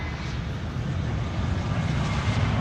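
A United Boeing 777 lands at Amsterdam Schiphol Airport, its engine roar a steady, moderately loud rumble that builds slightly toward the end, with no voices.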